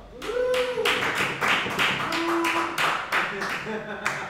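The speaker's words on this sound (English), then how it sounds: "big round of applause for Aiden Plank" Audience at a live jazz trio gig at The Spotted Owl claps and cheers, sharp, uneven hand claps crowded together with raised voices and whoops over the whole stretch.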